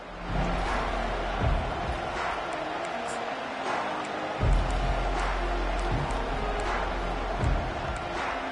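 A stadium crowd in a college football video game roars steadily for the whole stretch, with a few thumps rising through the noise and a commentator talking over it.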